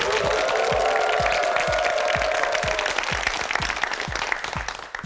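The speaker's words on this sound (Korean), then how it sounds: "박수 주세요." Studio audience applause on a Korean TV quiz show, a dense, steady wash of clapping at close range with a faint rhythmic thump underneath, easing slightly toward the end.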